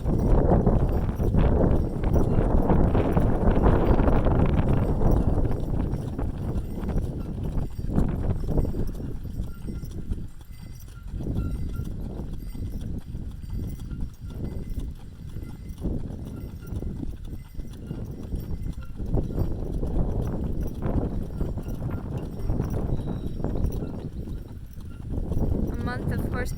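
Horse hooves clip-clop steadily during a horseback trail ride, an even walking rhythm close by, with a rider's voice talking over much of it.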